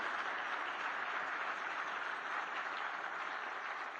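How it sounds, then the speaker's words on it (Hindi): Audience at a book release ceremony for a Gujarati translation of Adi Shankaracharya's collected works, giving sustained, even applause heard from a distance, dense and steady with no talk. "सभी लोग जरा जोर से गौतम भाई के लिए ताली बजाइए जरा।"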